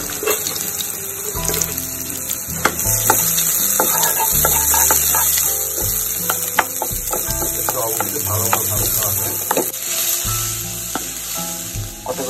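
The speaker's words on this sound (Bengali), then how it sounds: "পেঁয়াজটা একটু ভেজে নিই।" Onions fry in soybean oil, sizzling loud and continuous right up close, with stirring scrapes and clinks against the pan.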